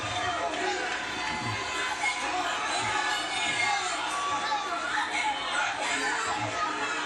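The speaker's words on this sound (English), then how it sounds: "Josh Hinger getting the crowd excited here." Crowd noise at an X1 mixed martial arts fight in Honolulu, Hawaii, a steady dense roar of cheering and chatter filling the arena throughout, with voices mixed into the din.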